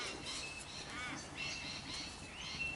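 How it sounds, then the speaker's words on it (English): Several birds squawk and chirp outdoors at moderate distance, their calls overlapping in irregular bursts against a faint background hum. "Sorry if you guys can keep hearing the birds as well. They've been pretty loud today."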